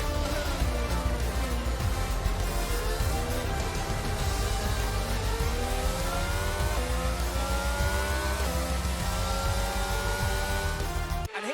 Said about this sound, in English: Our winner pulling their Ferrari into Parc Fermé after a fantastic race.